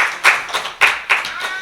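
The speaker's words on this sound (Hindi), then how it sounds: "ताली बजा के प्रभु का धन्यवाद करेंगे।" A church congregation claps together in thanks to God during a sermon: a handful of sharp, rhythmic group claps, fairly close and loud, repeating at an uneven, roughly half-second pace.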